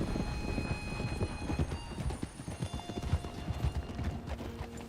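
Horse hooves clip-clop in the Red Dead Redemption 2 video game, a steady series of close, distinct hoofbeats on soil and rock over faint background music.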